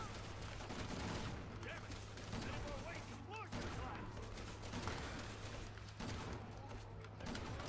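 Gunfire in the video game Resident Evil 6, a fairly quiet, steady stream of rapid shots and crackling blasts running throughout, with game effects layered underneath.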